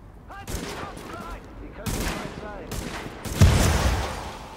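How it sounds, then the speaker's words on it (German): A few sharp gunshot bursts ring out in the video game Tom Clancy's The Division, ending in a louder blast as a shot vehicle tire explodes, with quiet chatter between the shots. "Schieß mal auf den Reifen, hör mal die Explosion"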